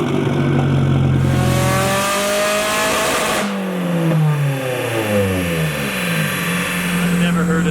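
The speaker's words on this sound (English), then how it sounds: "An SR so dang loud. I can feel it vibrating through my entire body." Nissan S14 drift car with an SR engine revving hard at an event, loud and close, pitch sweeping up and down through repeated throttle blips, with voices heard beneath it.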